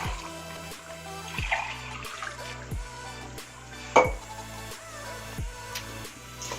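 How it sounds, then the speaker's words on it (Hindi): Water is poured from glasses into a cooking pot for pea pilaf, several splashing pours with gurgles and trickles, fairly close and quiet, with no talking. "3 गिलास में पानी डालूँगी"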